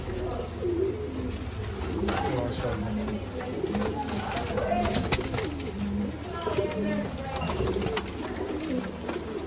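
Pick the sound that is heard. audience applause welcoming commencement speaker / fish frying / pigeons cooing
pigeons cooing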